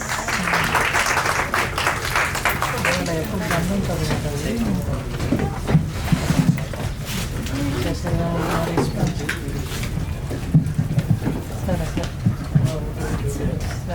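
An audience claps through a movie press meet as a guest is welcomed onto the dais, with sustained applause running underneath someone talking over a microphone.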